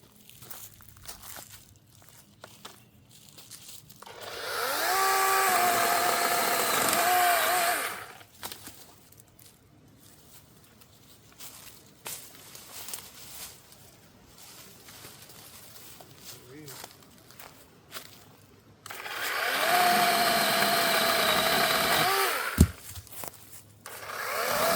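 DeWalt 20V Max compact cordless 12-inch chainsaw cutting wood outdoors, two bursts of loud steady whining motor and chain cutting, each several seconds long, separated by quieter stretches of footsteps and rustling, with someone talking in between.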